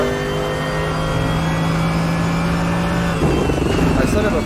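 Race car engine in the RaceRoom racing game, a GT3 car at Laguna Seca, droning steadily at a constant pitch throughout, loud and continuous, with a rougher surge near the end.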